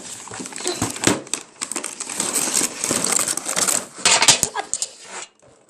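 A new toy plate set's plastic packaging crinkles, crackles and tears at close range, in a dense run of rustling bursts that fades near the end.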